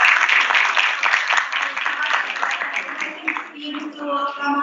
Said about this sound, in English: So round of applause for the organizing team.